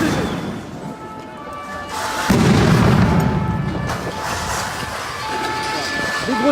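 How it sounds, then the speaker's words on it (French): Sting-ball grenades go off during a riot at the Tomb of the Unknown Soldier, a heavy boom rolling over crowd noise, followed by a sustained roar and scattered distant bangs. "Des grenades désencerclantes qui viennent d'être utilisées."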